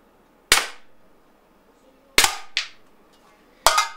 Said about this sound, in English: the sound of impact is very, very cool. It's snappy, it's hard hitting with the mini breaker balls.